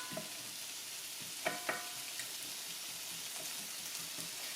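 Onions, ham and bacon grease fry in a Dutch oven, giving a steady close sizzle and crackle with a couple of soft clinks from stirring, no voices.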